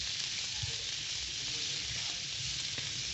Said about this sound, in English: We cook the red onion, chili, and garlic, and olive oil